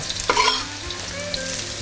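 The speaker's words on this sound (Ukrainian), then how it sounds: "баклажани пересипаємо на е, розігріту олію" Eggplant strips, cut into sticks about a centimetre thick, drop into hot oil and fry with a steady sizzle and crackle, close and fairly loud, with a brief burst of spattering as they land and no talking.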